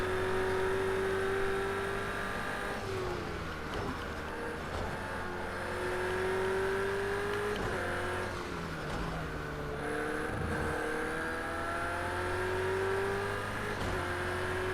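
Race cars in a video game roar past in a continuous, overlapping drone of engines, the pitch rising and falling through gear changes and close passes at steady loudness.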